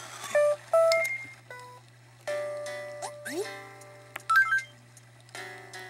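Timer tool in Animal Crossing: Wild World beeping through a run of short electronic tones and little chiming melodies, clear and fairly loud over a steady low hum, with no talking.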